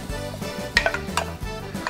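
A roux is stirred and sautéed in a wok for New Orleans-style gumbo. The spatula scrapes and clinks against the metal a few times over a soft sizzle, close by, with no speech.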